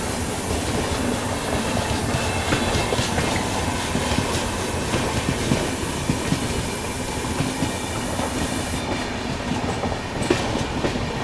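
The Satyagraha Express rushes past at speed while overtaking the Rajdhani Express, a loud, steady roar of rolling wheels and clattering rail joints with faint hiss and squeal, holding throughout without voices.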